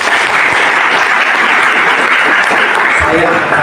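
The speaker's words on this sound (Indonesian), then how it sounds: "Tepuk tangan." Loud, continuous audience applause in a gathering of honorary teachers, a thick, unbroken roar of clapping filling the space from start to finish.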